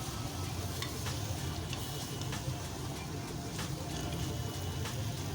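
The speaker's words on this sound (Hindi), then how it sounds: "अब हम इसको अच्छी तरह मिक्स कर लेंगे बैंगन और अरबी को मसाले के साथ।" Eggplant and taro being stirred with masala in a hot pan: a steady low frying hiss and rumble with intermittent soft scraping strokes from a spoon, close and fairly even throughout.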